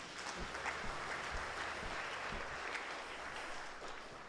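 Church congregation at a Kikuyu service applauding steadily, a dense even wash of many hands clapping throughout, moderately loud with a few sharper claps standing out near the front.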